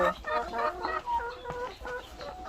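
Free-range laying hens cluck steadily and close by, several birds overlapping in short, busy calls.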